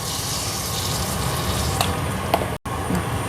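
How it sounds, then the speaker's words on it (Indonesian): Fish frying in hot oil with ginger and a little salt, a steady dense sizzle that fills the whole stretch, loud and close, broken by one brief cut near the end. "Goreng ikan."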